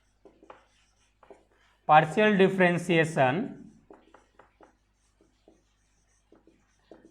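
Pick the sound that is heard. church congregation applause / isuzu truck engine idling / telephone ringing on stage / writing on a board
writing on a board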